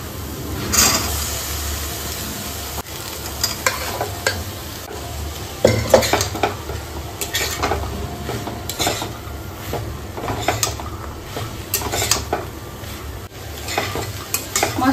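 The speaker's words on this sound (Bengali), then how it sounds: "মশলাটা সুন্দর ভাজা হয়ে গেছে, এবার এর মধ্যে আমি ছোলা আর আলুটা দিয়ে দেবো।" Boiled chickpeas and potatoes are stirred into fried spices for vegetarian ghugni. A spoon scrapes steadily against the pan, close and busy, over a continuous sizzle, with no voices.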